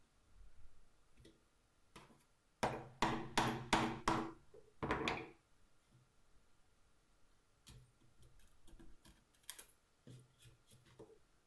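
Wooden mallet striking a chisel to cut a mortise in wood for a spice jar rack, with a quick run of six sharp knocks and then scattered lighter taps and scraping, close by.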